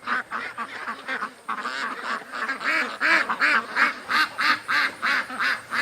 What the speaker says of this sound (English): The ducks are doing a circle and coming back.